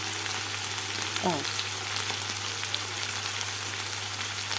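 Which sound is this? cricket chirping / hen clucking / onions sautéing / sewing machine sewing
onions sautéing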